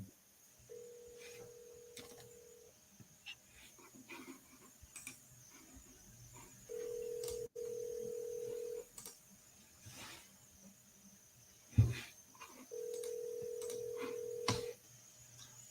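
Telephone keypad dialing tones sound in three sustained beeps of a couple of seconds each, steady and moderately loud, during an outgoing call to a seller, with faint background clicks and a sharp knock between them.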